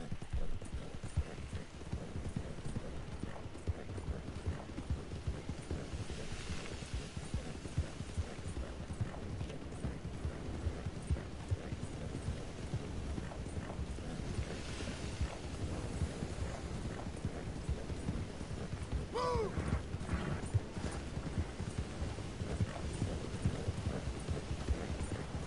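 Horse hooves clip-clop steadily in a video game, a continuous clear rhythm of footfalls carrying on throughout with no talk.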